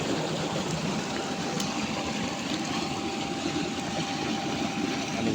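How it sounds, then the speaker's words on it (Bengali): A field irrigation water pump runs steadily while water gushes out, a dense continuous roar of engine hum and rushing flow that stays constant and loud throughout. "অফুরন্তভাবে পানি বেরিতেছে"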